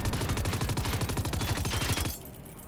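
Sustained rapid LMG fire from the video game Generation Zero, a dense, loud stream of evenly spaced shots for about two seconds before cutting off into quieter background noise.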